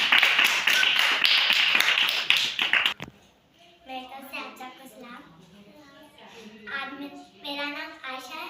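An audience applauds a young girl about to recite the story of Abraham: a loud, dense burst of clapping for about three seconds that cuts off abruptly, followed by someone speaking.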